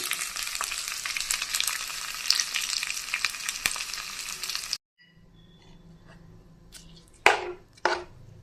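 Mustard seeds, onion and curry leaves crackle and spit in hot oil for a spinach kadaiyal tempering, a loud dense sizzle that cuts off abruptly midway, leaving a quiet pan with a few sharp utensil clatters.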